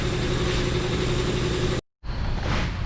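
Rear wheel of a Jeep Patriot spinning on freshly replaced rear hub bearings, a steady loud whirring drone with a low rumble, broken by a brief silent gap before resuming smoothly.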